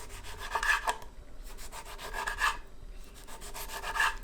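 A knife cuts small tomatoes into rounds in a home kitchen, giving three soft, close rasping strokes spaced about two seconds apart, quiet and without speech.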